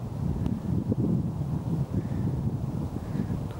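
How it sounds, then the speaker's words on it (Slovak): Steady wind blows across a lake where windsurfers are out, a constant low rushing roar with gusty buffeting on the microphone and no speech. "Dneska vietor viacej praje."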